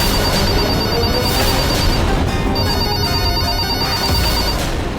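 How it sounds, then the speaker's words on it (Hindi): Home telephone ringing in a house, a steady repeating electronic trill that sounds loud and near, pausing briefly midway before ringing again over a background of low household noise. "ये घर के फ़ोन में कौन फ़ोन कर रहा"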